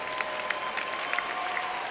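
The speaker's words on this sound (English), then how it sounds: "Let's give a round of applause for all of our global communication graduates." A crowd applauding steadily at a university commencement ceremony, a dense patter of many hands clapping at a moderate distance, unbroken for the whole moment.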